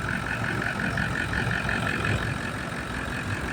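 Idling 2014 Toyota Land Cruiser with a 4.5 liter diesel V8 and manual gearbox, about 240,000 km on the clock, giving a steady, even rumble throughout with no talk.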